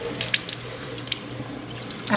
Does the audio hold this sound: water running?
yes